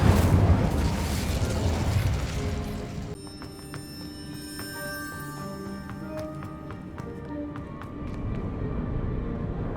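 An Incendio fire spell cast in Hogwarts Legacy: a rushing whoosh of flame that cuts off abruptly, followed by ringing magical tones and light clicking effects at moderate level.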